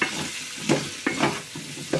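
Ivy gourd (tindora) being stirred while frying in a pan, with a few distinct scraping strokes over a constant sizzle, close and fairly loud, no talking.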